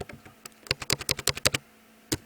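A burst of rapid keystrokes on a computer keyboard while typing CSS code, about a dozen crisp close clicks in quick succession, then a pause and one last tap, with no speech.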